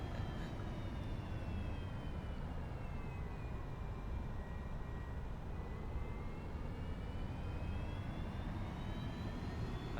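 Steady, faint drone of a simulated aircraft engine in X-Plane 11, a constant broadband hum with a slowly shifting whine, continuous and unbroken with no talking.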